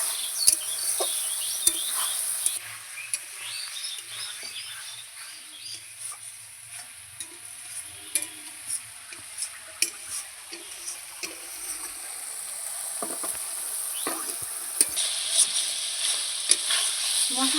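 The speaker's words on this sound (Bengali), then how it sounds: "এবার আমি ভেজে রাখা আলুগুলো দিয়ে দিচ্ছি। আলুটা দিয়ে কিছুক্ষণ আরো কষিয়ে নেব।" Fried potatoes sauté with spices and yogurt for a paneer curry, producing a quiet, even sizzle punctuated by frequent sharp stirring taps and scrapes against the pan.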